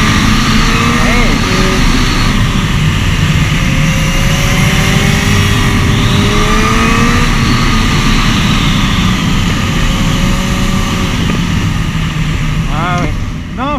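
A Suzuki Bandit 1250 motorcycle engine pulling hard on the road, a loud continuous roar with rising whine as it accelerates, rider's voice talking over the engine noise.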